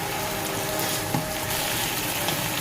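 Chicken shashlik frying in a pan with vinegar, chili sauce and seasonings gives a dense, continuous sizzle with one faint clink partway through.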